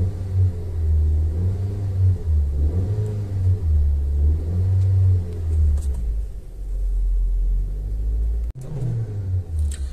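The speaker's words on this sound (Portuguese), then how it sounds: "o barulho do motor como fica?" Inside a 2020 Volkswagen Virtus with a 1.6 MSI engine and manual gearbox, the engine cranks and settles into a low, steady idle rumble with slight rises in revs, heard from the cabin.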